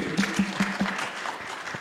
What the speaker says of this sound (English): I'll give an applause to that.